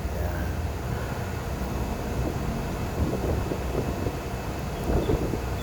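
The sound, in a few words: strong wind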